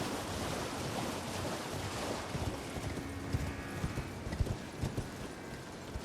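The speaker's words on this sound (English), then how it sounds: "Come on, it's a horse." Horse hooves clip-clop at a steady trot while riding in Elden Ring, quiet rhythmic thuds over a faint wind and surf-like ambient wash, with no talking.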